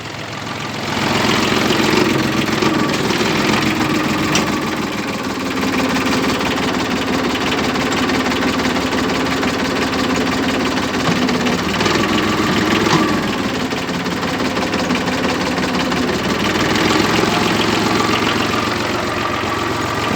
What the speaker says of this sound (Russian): Завели трактор.